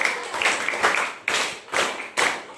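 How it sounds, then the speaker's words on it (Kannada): A classroom of eighth-grade students claps for their classmates, a dense burst of quick close hand claps swelling in several waves over a couple of seconds. "ಓಕೆ, ಎಲ್ರಿಗೂ ಒಂದು ಚಪ್ಪಾಳೆ ಹಾಕಿ"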